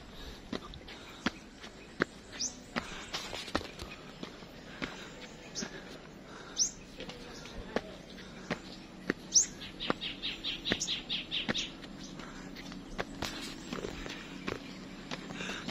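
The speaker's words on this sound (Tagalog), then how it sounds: "may ibon yung tinatawag sa amin sa laksakan" Birds locally called laksakan at a hilltop viewing deck in Kitcharao, Agusan del Norte, giving scattered sharp chirps and a brief trilling run, with soft footsteps and quiet outdoor ambience between calls.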